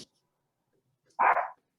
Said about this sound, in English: I'm going to close the door in case the dog continues to bark